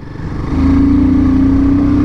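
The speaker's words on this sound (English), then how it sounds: "wow, what an exhaust note" A Royal Enfield Himalayan 450 motorcycle's exhaust swells into a loud, steady, throbbing drone that holds at a constant pitch, close up and with no talk.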